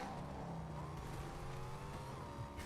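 A car driven in the video game Fortnite, its engine a steady loud drone with revving and a tire-squeal edge running through the whole short stretch, with no talking over it.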